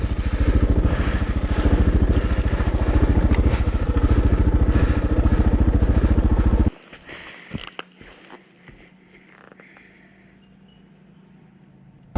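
Suzuki DR650 dual-sport motorcycle riding a narrow single track in the Watagans, its engine loud and steady with rattling clatter, then cutting off abruptly to leave faint scattered knocks and quiet.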